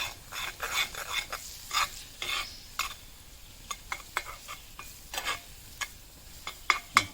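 Stirring food in a pan during home cooking, with scraping spoon strokes against the pan in an irregular rhythm over a faint sizzle, close and fairly quiet.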